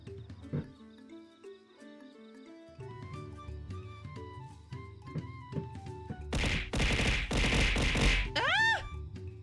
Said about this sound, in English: Someone's letting out fireworks.